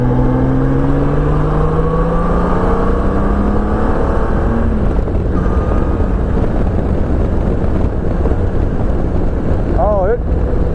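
A Honda F6B motorcycle accelerating, its engine note climbing and sweeping in pitch beneath steady, heavy wind rush at riding speed.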